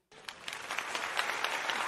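Applause swells in abruptly from silence and builds to a steady, fairly quiet patter of many hands clapping, with a few louder individual claps standing out.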